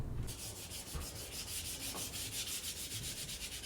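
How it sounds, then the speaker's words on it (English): A dresser is lightly scuff sanded by hand with 400 grit sandpaper, a quiet, steady rhythmic rasping of paper rubbing back and forth over the wood surface, with no talking. "I take a 400 grit piece of sandpaper without applying too much pressure."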